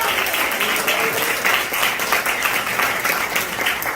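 Steady applause from an audience at a course on the four human temperaments, a continuous crackle of many hands clapping, close and fairly loud for the full four seconds.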